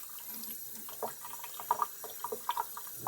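Water trickles and splashes from a watering source into a houseplant pot with soil, a steady faint flow broken by small irregular drips and splashes throughout.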